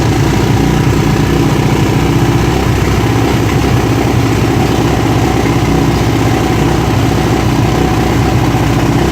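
A Kawasaki KLX650R motorcycle engine runs with the choke on, a loud, close, constant rumbling idle that holds steady throughout with no speech.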